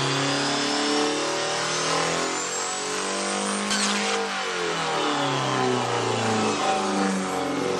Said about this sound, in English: This truck was unfortunately not as lucky as the previous runaway diesel.